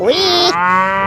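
A toy cow from an animal figure set plays an electronic moo: one loud, sustained, close call that rises and then drops in pitch, with no talking.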